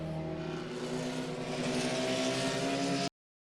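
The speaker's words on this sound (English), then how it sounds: "Here we are completing lap number 5 of the Formula First 1 Hour Grand Prix." Formula First race car engine droning steadily on track during a one-hour Grand Prix, a loud sustained buzzing note that holds its pitch, then cuts off abruptly.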